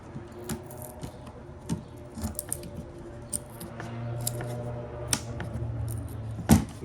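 A vinyl flooring plank is peeled back by hand, giving faint close crinkles and sharp small clicks and snaps scattered over several seconds, with a soft stretched scrape near the middle.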